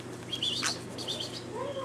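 A small bird chirps close by in short high tweets spread across a couple of seconds, set outdoors in a tiny-house garden with steady low background noise.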